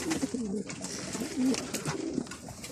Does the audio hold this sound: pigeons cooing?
yes